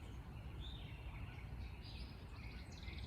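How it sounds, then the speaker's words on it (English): Morning songbirds chirp faintly and sparsely over a vegetable garden, their soft, distant calls rising above a low, steady background hum with no voices. "Let you listen to the birds as much as possible."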